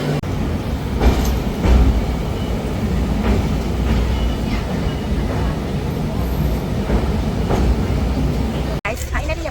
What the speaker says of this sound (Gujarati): ગાંધીનગર રેલવે સ્ટેશન જોઈ શકો છો બહુ મસ્ત છે